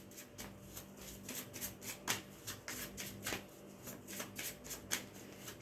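Tarot cards shuffled by hand at close range, a steady run of crisp riffling bursts and soft slaps with a few sharper snaps, quiet and unaccompanied by speech.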